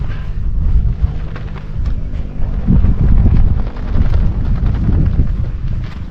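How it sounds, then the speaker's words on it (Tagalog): Strong wind gusts buffet the microphone in a low, rumbling roar that swells and eases over several seconds, with no voices, at a cold mountain campsite viewpoint on Mt. Olis, Philippines. "Malakas ang hangin"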